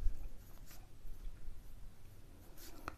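Handwriting during a maths lesson, a faint, continuous scratchy scrawl with a few brief strokes and a soft tap near the end, close up, with no talking over it.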